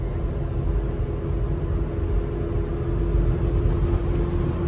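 A 1989 Toyota pickup with a 22RE engine is driven, giving a steady in-cab engine drone and road rumble at an even, unbroken level throughout.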